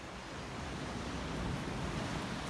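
Sea waves wash steadily on the shore about fifteen metres from an apartment in Chakvi near Batumi, a continuous broadband surf roar with no voices.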